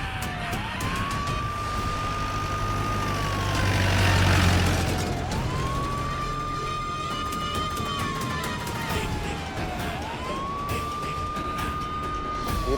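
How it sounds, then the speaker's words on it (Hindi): Police siren wailing in repeated rising-and-falling sweeps, three cycles over steady traffic noise with a passing vehicle rumble, loud and fairly near, with no one talking. "ये तो पुलिस की सायरन की आवाज।"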